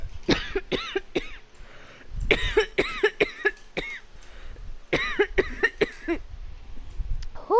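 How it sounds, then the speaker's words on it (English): Harsh, rasping coughs from a character in the video game Heavy Rain, coming in three rapid clusters of several hacks each, separated by short gaps and close-sounding. "That was just a mean cough."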